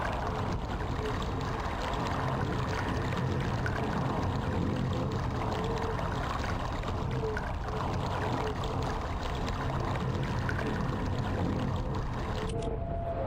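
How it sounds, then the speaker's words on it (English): Water in the Myst video game, a continuous soft rushing and pouring wash with a faint low rumble, steady and fairly quiet throughout. "because that's the sound of water"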